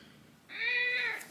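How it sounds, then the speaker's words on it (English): A house cat lets out one loud, drawn-out meow close by, rising and then fading over about a second after a quiet start. "Sorry for the cat screaming in the background"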